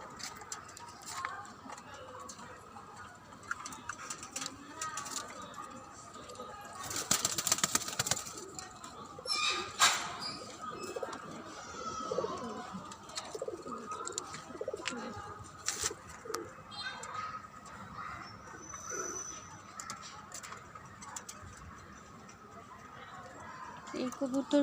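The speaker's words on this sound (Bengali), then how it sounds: "এদিকে আছে কবুতর।" Pet pigeons coo softly in their coop while someone talks over them. A burst of wing flapping comes partway through, and the birds stay fairly faint under the voice.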